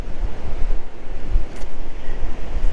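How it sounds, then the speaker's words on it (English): Strong wind gusts roar during a dust storm at an outdoor Copart salvage yard, a loud, constant rush buffeting the microphone with heavy low rumble and no talking. "We just have wind gusts today of like 50 miles an hour."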